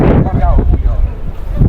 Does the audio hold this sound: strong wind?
yes